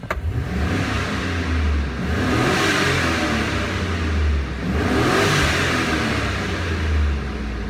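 A 5.3L LS LM7 V8 from a 2001 Chevy Suburban revs twice, each rise swelling and falling back to a steady idle, loud and close with no talking.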